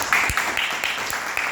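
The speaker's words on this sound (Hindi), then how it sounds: "आपको की जोरदार ताली।" Audience applause at a business meeting in Lucknow, a steady wash of clapping from a seated crowd with a few sharper individual claps standing out, fairly close and continuous through the short moment.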